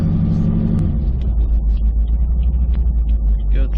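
A Toyota Supra MKIV engine held at steady throttle while driving, a loud, close, low droning rumble with a pulsing rhythm and a pitch shift near the start.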